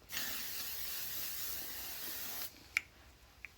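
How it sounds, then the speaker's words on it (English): L'Oreal Infallible setting spray hisses out of its bottle in one continuous fine mist for about two and a half seconds, close and steady, followed by a couple of small sharp clicks. "I'm going to go in with this L'Oreal Infallible Setting Spray"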